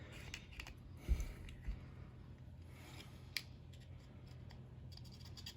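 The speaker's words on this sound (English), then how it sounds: "I can just feel the difference just in the casing of the egg when I cut it." Scissors snipping open an egg casing, a few quiet, sharp cutting clicks over a soft low background hum, close and faint, with no speech.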